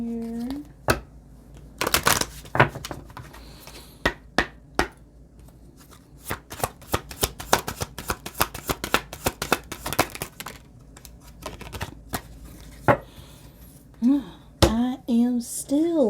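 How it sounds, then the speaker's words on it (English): Oracle cards being shuffled and handled by hand, a long series of crisp riffling and slapping bursts, some sharp and close, with scattered quieter flicks between them and a few squeaky tonal chirps near the end. "Let's get one I Am card out here."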